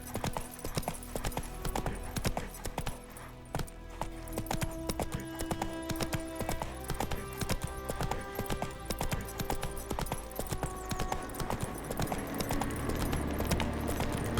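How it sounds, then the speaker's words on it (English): Horse hooves clip-clop steadily in The Witcher 3 as the horse Roach trots, a close, even rhythm with faint tack jingling beneath. "Whoa there, Roach."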